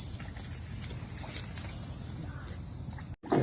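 A steady, high-pitched drone of crickets chirping persists loudly throughout at a coastal spot, cutting off abruptly near the end.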